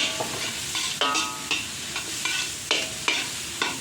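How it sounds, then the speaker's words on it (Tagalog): Butter sizzles in a heated pan for cooking pork belly while a utensil stirs and scrapes in repeated strokes over the steady, close frying hiss. "Papainin tayo ng kawali. Lagyan na natin ng mantikilya."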